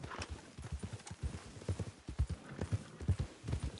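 Rhythmic clip-clop of horse hooves trotting at a steady pace in a Grand Theft Auto game, fairly close, with a faint whinny in the mix.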